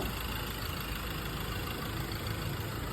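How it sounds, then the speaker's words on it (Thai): A Mazda BT-50 Pro 2.2 diesel turbo pickup engine idles with a steady, low, even rumble, heard close and uninterrupted for the whole short stretch. "เครื่องยนต์เดินเรียบ แอร์เย็นเพลงเพราะ"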